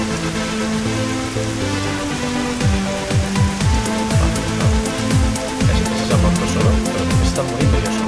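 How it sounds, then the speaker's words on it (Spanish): Rain falling in the 2D survival game Dig or Die, a steady loud patter with splashy drops, layered over looping game music with repeating low notes; no voices. "Ah, nos mata la lluvia. La lluvia los mata."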